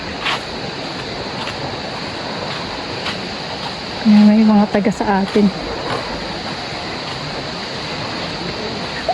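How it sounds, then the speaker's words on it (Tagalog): Water crashes steadily at Balon Falls, a loud, continuous broadband rush with constant wind-like hiss, while a person talks briefly over it partway through. "Kaya naririnig niyo yung hampas ng tubig."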